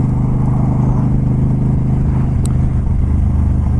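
Steady motorcycle engine drone while riding slowly through traffic on a cool 50-degree December afternoon, a loud continuous low rumble with wind noise and no talking.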